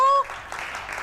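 Studio audience on a television show breaks into a burst of applause right after a short tonal musical sting, the clapping steady and moderately loud for the rest of the moment.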